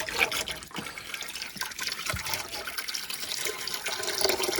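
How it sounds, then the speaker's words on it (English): Hot water pours steadily from a kettle into a dirty bucket, a splashing, gurgling stream close by with a few drips and no voices. "in your hot water goes into your dirty old bucket."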